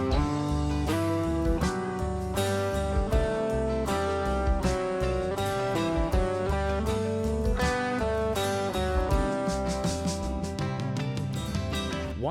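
An electric or acoustic guitar runs through the major scale in a stiff, robotic way, each note evenly spaced and sustained in a steady stepwise run, played alone with no talking.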